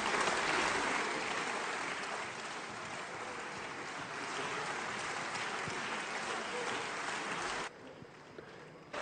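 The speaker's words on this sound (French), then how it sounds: "les sénateurs socialistes qui se sont levés pour applaudir Jean-Marc Ayrault" Senators in the French Senate rise to applaud Jean-Marc Ayrault after his speech, a dense, loud, sustained wash of clapping that continues almost unbroken before cutting off abruptly near the end.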